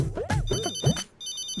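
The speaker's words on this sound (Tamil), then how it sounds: "வேதாஜி இவங்க ஏன் நமக்கு ஃபோன் பண்றாங்க?" A phone's electronic ringtone for an incoming call, a bright repeating tone that enters midway and continues, heard over a soundtrack of music with a few other sounds from a Tamil television drama scene.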